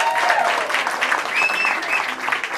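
A crowd applauds steadily at an Elvis tribute contest at Pechanga Casino, a dense wash of clapping that holds loud and even throughout with a few faint tonal sounds above it.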